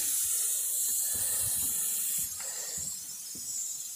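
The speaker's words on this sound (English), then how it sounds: "Last thing I'm going to do is spray down all the fabric with this." Fabric freshener is sprayed over the upholstery inside a camper, making a continuous bright airy hiss close by that changes tone halfway through as the spray continues.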